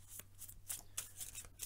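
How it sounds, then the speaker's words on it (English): A deck of cards for the Underwater Cities board game is riffled in several quick, soft bursts close to the microphone, with a faint steady hum beneath and no talking. "We shuffle deck number two."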